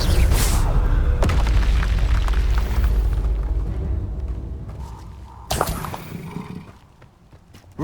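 Confringo blasting spell exploding in the Hogwarts Legacy video game, a heavy booming blast that rumbles and fades, followed by a second sharp burst.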